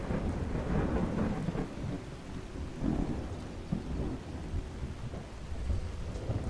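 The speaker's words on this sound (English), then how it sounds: "It's rainy weather." Rainy weather with thunder in the video game Skyrim: a steady wash of rain on surfaces under deep, rolling low rumbles that swell and fade throughout, with no talking.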